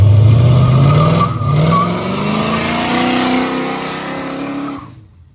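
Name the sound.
car with 383 engine revving during brake torque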